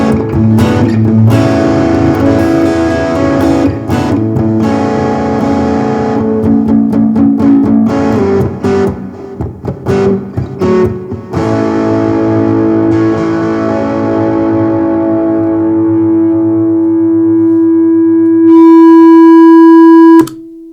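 Acoustic guitar played through an AER acoustic amp with a Strymon Riverside overdrive and a Seymour Duncan Dark Sun delay reverb, loud sustained strummed and picked notes with long echoing tails, then a rising feedback tone near the end.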